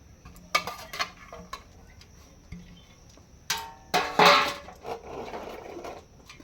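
A kadai wok is set down on a gas stove with a few sharp metallic clanks and taps, followed by a louder clatter and a brief scraping rattle in a home kitchen.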